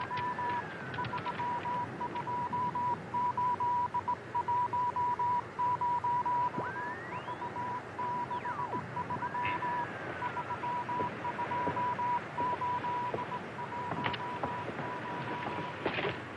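Radio telegraph signal of an incoming radiogram, a steady stream of high-pitched Morse beeps keyed in quick rhythmic bursts over a hissing, crackling background, continuous and fairly close.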